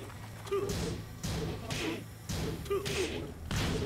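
Repeated fighting-game impact hits from a Tekken 7 match: a steady run of sharp thuds and whooshing strikes about every half second, close and punchy, with no voices over them.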